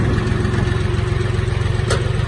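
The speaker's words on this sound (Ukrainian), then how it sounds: "Просто дивимося, як рухається трактор, з якою швидкістю рухається трактор" A Jinma 3244 tractor engine runs in first gear at the lowest range, a steady close diesel chug with an even pulsing rhythm and light clatter, loud and continuous with no voices over it.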